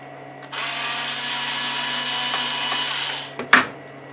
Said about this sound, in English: Number 2 Phillips is a little, just a tad big, and there are only 2 screws that hold this in.